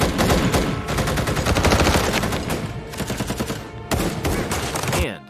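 Rifle fire rattles through a shootout in loud, rapid, overlapping bursts of close gunshots, with a brief break before a final volley.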